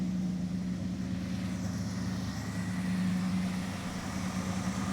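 A 1960s Chrysler 5.2 liter V8 in a crew cab Charger idles with a steady low rumble, moderately loud and close, holding even without revving and with no speech over it.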